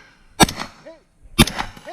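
Two sharp gunshots about a second apart ring out during a competitive shooting race in a cornfield, each a loud crack with a short echoing tail, separated by quieter background sounds.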